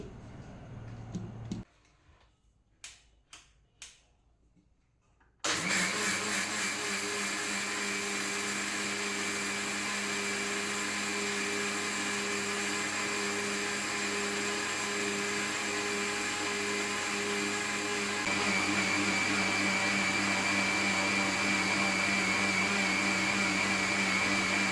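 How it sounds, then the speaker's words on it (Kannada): An electric wet grinder churns batter made with water and grated coconut, a steady loud whirring drone that runs on alone after a few brief clicks and a short quiet start. "ಇದಕ್ಕೆ ಬೇಕಾಗುವಷ್ಟು ನೀರನ್ನು ಹಾಕಿ ಇದನ್ನು ಗ್ರೈಂಡ್ ಮಾಡೋದು."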